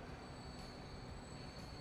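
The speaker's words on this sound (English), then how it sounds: "I think it's okay going with this big train" A long passenger train in the video game Transport Fever rumbles steadily with a continuous wheel drone and faint high squeal, quiet and unbroken throughout.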